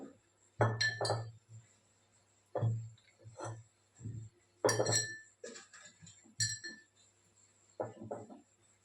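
Lemons dropped one at a time into a glass jar, each landing with a sharp clink and brief ringing, about eight separate knocks spaced irregularly with quiet gaps between.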